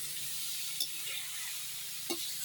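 Pork intestines (bituka) frying in oil until crispy for pinaputok dinuguan, giving a steady, soft sizzle throughout with a couple of faint clinks of a utensil.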